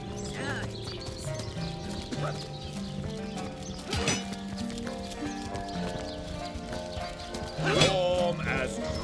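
Horse in the video game Divinity: Original Sin, with hoof clip-clops and whinnies set against looping game music and a speaking voice.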